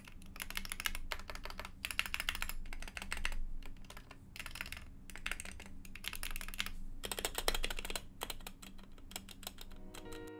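Wooting60 gaming keyboard with pre-lubed stabilizers typed on in bursts, dense clacky keystrokes in several rapid runs separated by short pauses, close and steady, with no talking.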